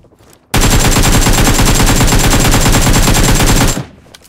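A heavy gun in PUBG Mobile, an AKM, fires one loud, continuous burst of rapid shots that lasts about three seconds and then cuts off.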